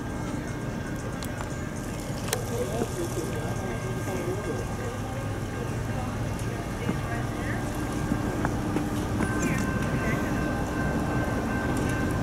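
CSX freight train QO31 passing in the Richmond, Virginia area, with a continuous loud low rumble and rail clatter, steady throughout, alongside occasional sharp squeals and voices talking nearby.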